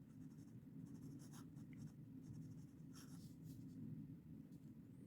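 A Parker Duofold Senior fountain pen with a very wet nib and feed, written with the nib reversed, gives a faint, soft scratching across paper in a few short strokes against a low background hum.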